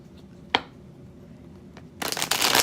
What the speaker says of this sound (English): let me go ahead and shuffle the deck for Capricorn, Taurus, Virgo